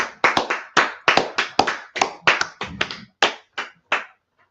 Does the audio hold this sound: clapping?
yes